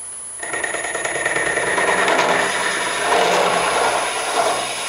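A drill bit plunges steadily into a spinning bottle stopper blank on a wood lathe, making a close, continuous grinding and rasping cut that lasts several seconds.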